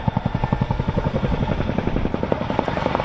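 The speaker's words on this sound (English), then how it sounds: "used to show off the awesome power of the Chinook to crews" A Chinook twin-rotor helicopter flies at an RAF air show, its loud, rapid rhythmic blade thumping close and continuous, with no talk over it.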